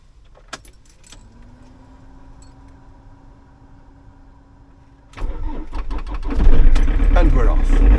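Diesel engine of a Ford Transit camper van cranks and catches after a quiet glow-plug wait, with a steady tone before it; the engine then fires and runs loud and close, rough and rumbling to the end.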